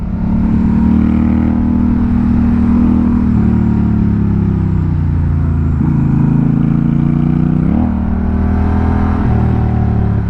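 A Honda Rebel 1100 motorcycle engine revs loudly and continuously through a series of downshifts, its drone dipping and climbing in pitch with each gear change, heard up close with no talking.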